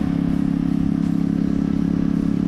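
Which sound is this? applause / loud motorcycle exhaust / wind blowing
loud motorcycle exhaust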